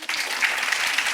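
Comedy show audience bursting into brief, dense applause from the room, steady clapping for about a second.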